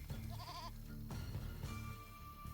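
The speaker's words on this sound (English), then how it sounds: "It's a goat." A goat in the video game South of Midnight gives a wavering bleat, followed by a second shorter call, heard fairly close over a quiet game ambience.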